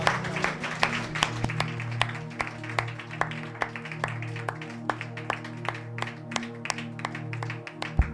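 A church congregation claps loudly in steady, evenly spaced beats, with sustained tones and faint voices underneath and no pause from start to end.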